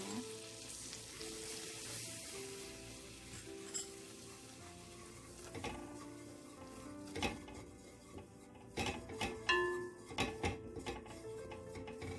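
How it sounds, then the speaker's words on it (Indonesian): Flour goes into hot melted margarine in a pan, the start of a béchamel for Arabic minced-meat macaroni; a soft, continuous sizzle runs under occasional scrapes and clinks of a utensil against the pan. "Setelah margarinnya panas, masukkan tepungnya."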